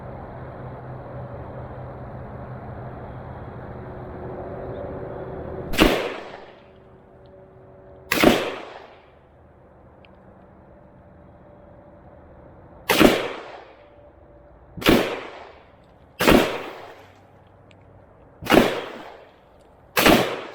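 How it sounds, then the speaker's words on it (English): A newly bought gun fired outdoors, six sharp loud shots spaced a few seconds apart, each with a quick echoing decay, after a steady low background hum. "There's a bullet in the chamber. Safety is on. Let's fire away."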